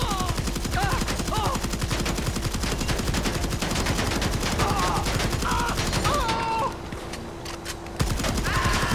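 Dense, continuous gunfire from GTA Online as arms dealers are shot, rapid overlapping bursts with a brief lull before firing resumes.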